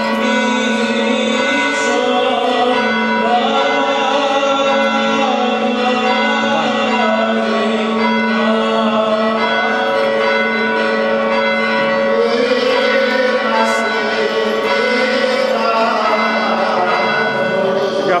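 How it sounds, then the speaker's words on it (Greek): Greek Orthodox church bell ringing steadily for the Saint Barbara feast day celebration in Dafni, sustained overlapping tolls with a rich ringing tone, loud and continuous with faint crowd murmur beneath. "Καμπάνα."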